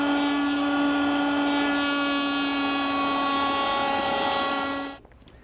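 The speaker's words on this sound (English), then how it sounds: "2 passes through a 3/8 inch router bit does the job." A woodworking router with a 3/8 inch bit rounds over the edges of a wooden side panel, giving a steady, loud, high whine that runs without a break for about five seconds before cutting off abruptly.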